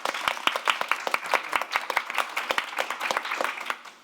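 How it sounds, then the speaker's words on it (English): A small audience at an awards celebration gives a round of applause, distinct individual claps in a brisk, uneven rhythm, fairly close and clear, with no talking. "it's worth a round of applause."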